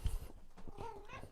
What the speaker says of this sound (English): Cat wants to come in.